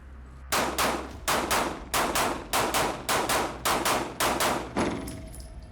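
Rapid pistol fire from a 1911 and a Glock outdoors, about a dozen loud sharp shots in fairly even succession with short gaps, each ringing briefly before the next, no talking between them.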